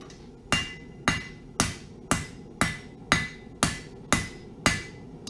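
A blacksmith hammers a hot metal leaf on an anvil, ten sharp, evenly spaced ringing strikes about half a second apart, close and loud with no talking.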